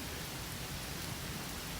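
Steady rain falling outside a mini camper van, a constant dense hiss of drops with no breaks, moderately loud and unaccompanied by voices.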